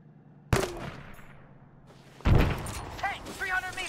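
Guns open fire in a military combat video game set in Chernarus, with a sharp single shot followed after a pause by a louder burst of heavy gunfire and rattling echoes.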